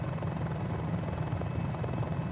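Engine and rotor drone of a Mini-500 small single-seat helicopter in a flight video game: a steady, dense, continuous buzzing hum, loud and unbroken, with no talk over it.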